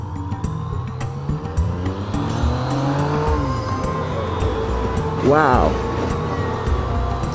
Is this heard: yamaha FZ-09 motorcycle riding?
yes